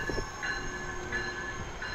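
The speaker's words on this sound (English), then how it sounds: "Electric South Chicago train number 324 to Millennium Station is now approaching your station" An electric South Chicago commuter train approaches the station with a steady rumble and faint wheel squeal, heard at moderate distance without talk.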